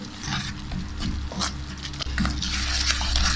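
A spoon steadily stirs apricot chutney cooking in a pan, with scraping strokes over a soft, continuous sizzle.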